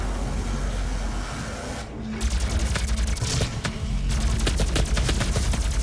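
A plasma rifle fires in DOOM (2016) Snapmap, with rapid, repeated bursts of shots over a constant loud game din and some heavier booms mixed in.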